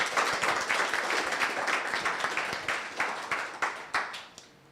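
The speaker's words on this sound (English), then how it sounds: "round of applause for our speakers" A small meetup crowd applauds its speakers after a Ruby programming talk on GraphQL, brisk overlapping claps filling the room before thinning out and fading near the end.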